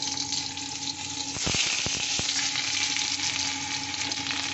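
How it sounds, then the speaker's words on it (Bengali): Black cumin and green chillies crackle into hot mustard oil, a loud burst of sizzling that surges and then holds as a dense, steady hiss, with a few sharp pops at the start and no talking. "আমি এই কালো জিরে কাঁচা লঙ্কাটা ফোড়ন দিয়ে দিচ্ছি"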